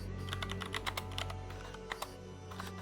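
Rapid, uneven clicking of keys on a computer keyboard, close and moderately loud, over a steady low electrical hum.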